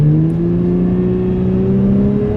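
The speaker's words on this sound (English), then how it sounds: "You'll be able to hear the revs go up, and we're not really moving." A Holden Commodore engine revs loudly and steadily, its pitch rising gradually as it runs with the car barely moving, close and continuous throughout.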